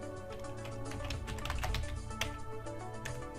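Typing on a computer keyboard, a steady run of quick close key taps with a few sharper strokes, continuous throughout a short stretch.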